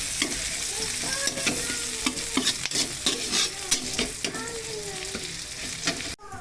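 Onions sautéing in leftover frying oil in a pan for a Filipino coconut-milk fish dish, a steady sizzle broken by repeated scraping and stirring strokes from a utensil, close and loud, with no talking.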